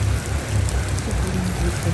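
Hard rain pours steadily at a resort, a dense, loud, unbroken hiss of drops with no voices.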